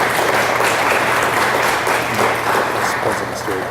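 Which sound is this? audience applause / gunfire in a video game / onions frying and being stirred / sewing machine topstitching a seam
audience applause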